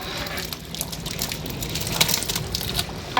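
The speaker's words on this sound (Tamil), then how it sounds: "அதாவது 32 லிட்டர் தண்ணி ஊற்றுங்க" Water pours steadily into a large mutton biryani pot for a big batch cooking session, a continuous broad gush with a few splashy bursts, close and fairly loud, no talk.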